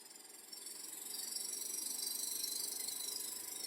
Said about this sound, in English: We're going to pump down the plasma cleaner.